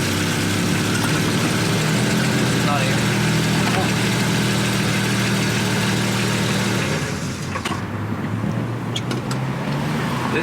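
Steady engine drone of a Volvo 164 while driving, a continuous mid-low hum with road noise that stays loud and even, then shifts slightly near the end.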